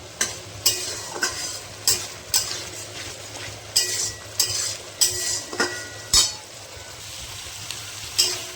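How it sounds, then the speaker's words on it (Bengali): Spice paste of coriander, chilli and turmeric powders frying in oil in a pan for a pointed gourd and chhana dorma, with a steady close sizzle broken by a dozen sharp spatula scrapes and clinks as it is stirred. "ভালো করে মশলাটা কষিয়ে নেব যতক্ষণ না তেল ছাড়ছে।"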